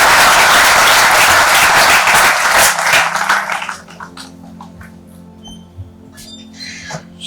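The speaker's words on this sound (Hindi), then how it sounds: "सदन से चाहूंगा जोरदार तालियों से आप स्वागत करें।" Loud, dense applause from a seminar hall audience welcoming a speaker, sustained for about three and a half seconds and then fading out into scattered claps and quiet room noise.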